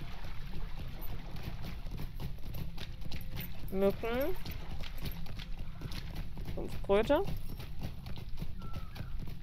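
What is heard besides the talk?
horse hooves clip-clopping in video game Lord of the Rings Online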